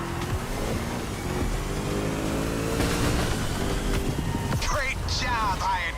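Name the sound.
car engine starting and revving in the video game The Crew Motorfest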